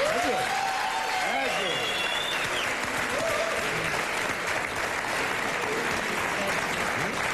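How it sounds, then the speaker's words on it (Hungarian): A studio audience on a Hungarian TV show applauds steadily and loudly throughout, a dense continuous wash of clapping with a few voices faintly audible underneath. "Ez a taps neked szólt."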